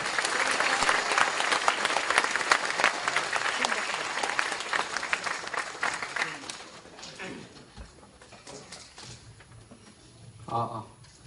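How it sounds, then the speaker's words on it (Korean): Loud, sustained applause from a large lecture audience that gradually fades out, followed by a brief voice near the end. "큰 박수 부탁합니다"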